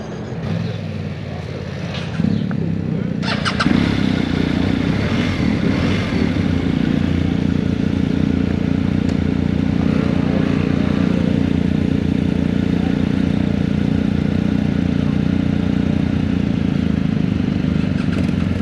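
BMW R 1250 GS motorcycle engine while riding at a demo event, a loud, steady droning rumble that swells after a brief quieter start and holds continuously, with wind noise and no talk.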